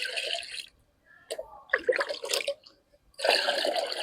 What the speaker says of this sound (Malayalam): ഇതിനകത്തേക്ക് ഇനി നമുക്ക് 4 കപ്പ് വെള്ളം ചേർത്ത് കൊടുക്കാം